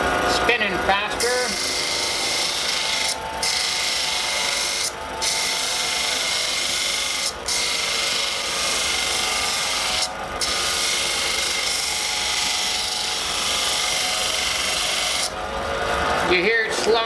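A homemade lapidary machine spins sandpaper in a steady loud rasping whir, briefly interrupted by a few short dips, with a voice speaking at the start and end.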